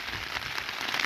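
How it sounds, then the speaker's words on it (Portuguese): Rainwater runs and patters outdoors on an overcast day, a steady dense hiss of flowing water heard up close with no one talking. "As águas correndo."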